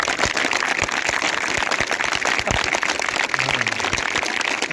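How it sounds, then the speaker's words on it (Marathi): A crowd of schoolchildren at a Republic Day school function claps together, a dense, continuous patter of many hands close and steady throughout. "जरा मुलांना म्हणावं टाळ्या वाजवा."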